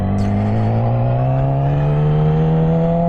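A car engine revs smoothly upward while rev matching during a gear change, its pitch rising steadily and loud and close throughout.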